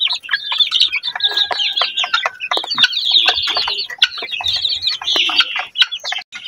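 A flock of upgraded native chickens clucks and chirps loudly and close by, a dense, continuous chatter of overlapping calls with no one speaking.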